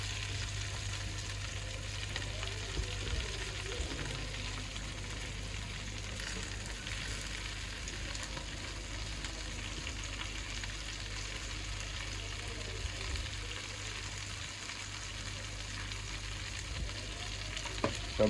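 Leafy greens frying in a pan in a university kitchen, with a continuous crackling sizzle and stirring scrapes heard close up and nearly alone for the whole stretch.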